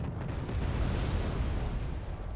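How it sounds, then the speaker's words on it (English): Chaparral air defense units firing in the war strategy game Wargame: AirLand Battle, a continuous rumbling roar of launches and blasts, loud and dense throughout. "Oh, Chaparrals are already firing."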